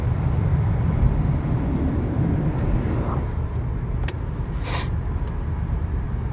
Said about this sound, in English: Thought I'd do a little freeway spin in the 2006 Lexus LS 430.